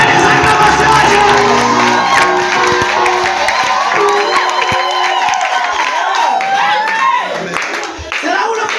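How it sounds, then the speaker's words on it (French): A wedding congregation at a nuptial blessing cheers, whoops and claps in praise, a loud dense crowd roar with shouts and steady music-like tones underneath, thinning slightly near the end. "Donner les acclamations à Dieu."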